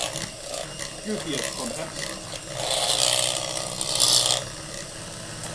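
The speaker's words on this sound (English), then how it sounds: "And you can increase the speed of your whisk." Electric whisk beating pumpkin pie filling with spices, a rasping mechanical whir that grows louder in two surges as the speed rises, with voices talking over it.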